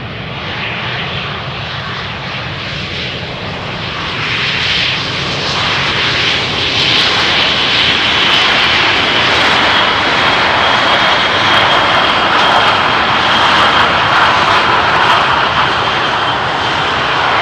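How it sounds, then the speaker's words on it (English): An Airbus airliner lands at Amsterdam Schiphol's runway 18R, its engines giving a loud, steady roar that swells after a few seconds and holds broad and close until the end, with no voices. "Airbus landing in the sun"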